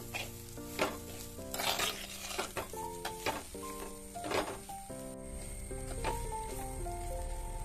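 Powdered beef for beef thoran stirred and heated in a pan, soft sizzling under repeated scraping strokes of a spoon, uneven in rhythm, with tonal clinks and a hum alongside, quiet and close, no voices.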